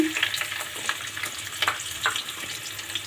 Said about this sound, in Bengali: পেঁয়াজটাকে হালকা করে ভেজে যাতে করে পেঁয়াজটা একটু নরম হয়ে যায়